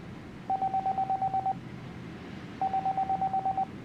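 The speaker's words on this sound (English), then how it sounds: "Then Kanan's phone rang" A phone rings in the video game 428 Shibuya Scramble: two bursts of rapid electronic beeps, each about a second long, separated by a short pause, clear and prominent.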